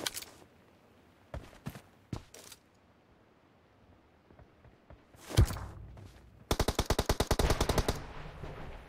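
Gunfire in PUBG Mobile: a few isolated single shots early, then a loud close burst of rapid automatic fire near the end, with faint footsteps between.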